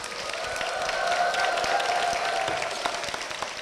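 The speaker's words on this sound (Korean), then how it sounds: "박수로 모시겠습니다" A Korean church audience claps to welcome a guest onto the stage, steady crowd applause at moderate loudness with a sustained musical tone underneath throughout.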